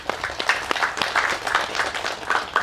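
Scattered audience clapping at a thanks-giving meet for the film Murmur, with sparse claps layered under a voice that keeps talking at moderate loudness throughout.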